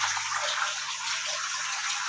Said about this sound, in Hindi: हम लोग देख रहे हैं कॉन्स्टेंटली पानी गिर रहा है पंप की वजह से